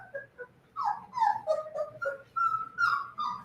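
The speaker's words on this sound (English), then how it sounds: "I'm not sure if I've heard you bark before." A four-week-old Labrador puppy gives close, high-pitched whines and whimpering yips in a rapid, wavering string of short cries.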